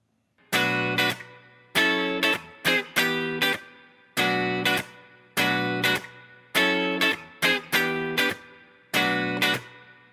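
Electric guitar with an effects-laden, slightly distorted tone strums a repeating chord progression in short rhythmic bursts, clear and close with brief gaps between chord groups.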